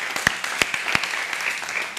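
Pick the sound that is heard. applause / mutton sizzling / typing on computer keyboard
applause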